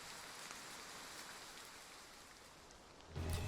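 Steady rain falls in the video game Triangle Strategy, a dense, even hiss of drops holding at one level throughout, with a louder low thud breaking in near the end.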